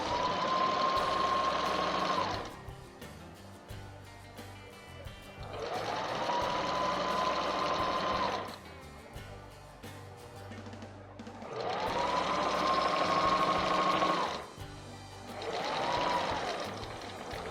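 A sewing machine stitches fabric with the presser foot centred, running in three long bursts of about three seconds each with short pauses between, close and steady, with no talking.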